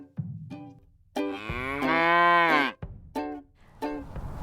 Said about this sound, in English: That's right, a cow, a dairy cow.